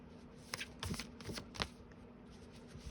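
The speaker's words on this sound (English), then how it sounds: "Sorry, I'm shuffling off camera." Tarot cards are shuffled off camera in a few quick, close riffling bursts separated by short pauses, with no talking over them.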